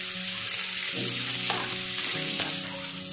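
Onions fry in a pan for paneer kadai, giving a loud, continuous sizzle with spatula stirring and scraping throughout.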